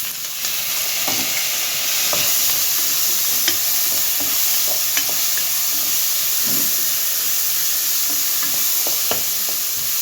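Green peas frying in a pan for aloo tomato curry, a steady loud sizzle and hiss with repeated scraping stir strokes of a spoon through the whole stretch.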